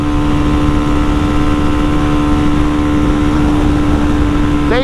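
A Honda Start 190 motorcycle engine screams at high revs in fifth gear during a top-speed run, a loud continuous drone with a steady whine, and a rising chirp right at the end.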